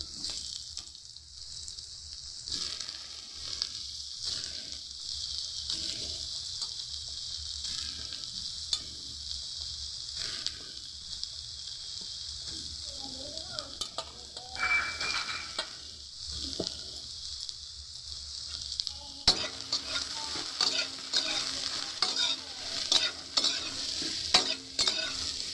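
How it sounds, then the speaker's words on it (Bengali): Soybean chunks fry in oil while being stirred, giving a soft continuous sizzle with intermittent spoon-against-pan scraping and stirring sounds, fairly quiet and close, with no talk. "হালকা করে সয়াবিনগুলো ভেজে নেব।"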